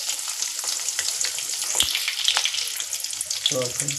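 Onion frying in oil with cumin and mustard seeds for a Kannada chavalikayi palya: a close, busy sizzle with crackling pops and stirring scrapes, then a short burst of voice near the end.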